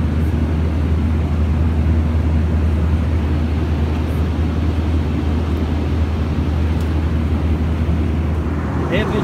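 A steady, loud low roar of jet engines fills the airplane cabin during takeoff, a constant broadband rumble with no breaks.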